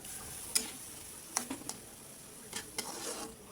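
Chicken liver with a splash of soy sauce stirred in a pan, a few soft scrapes and clicks of a utensil over a faint steady background sizzle, with no talking.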